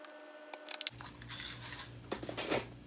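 Sharp fabric scissors snip and clip around sewn scalloped edges of a small doll dress, a quick cluster of close crisp cuts followed by softer rustling and a few more snips, faint and near.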